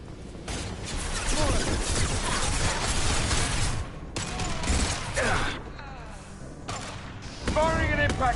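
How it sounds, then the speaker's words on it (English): Shots ring out in a Mass Effect 2 firefight, a rapid series of loud, close bursts and booms with brief pauses between volleys, while voices call out over the combat. "Firing an impact shot!"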